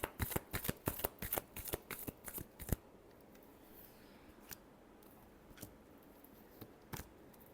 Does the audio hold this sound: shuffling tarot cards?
yes